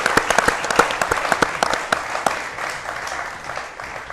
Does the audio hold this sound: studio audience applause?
yes